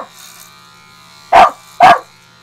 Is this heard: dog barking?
yes